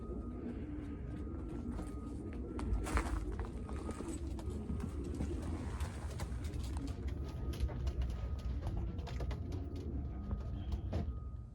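Pigeons in a loft with the door open coo and shuffle amid a dense wash of rustling, wingbeats and scattered taps, continuous and moderately close throughout.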